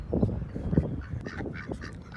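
Ducks on a farm field foraging for beetles give a few quick nasal quacks and honks close by, over low outdoor background noise.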